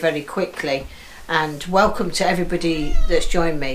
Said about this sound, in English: I've got a cat outside the door meowing